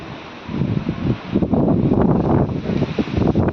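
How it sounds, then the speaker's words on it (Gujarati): Gusts of strong storm wind rise and blast against the microphone on a gallery, a rumbling roar that swells after a brief quieter start and stays loud. "પવન જો પવન છે આ વાર"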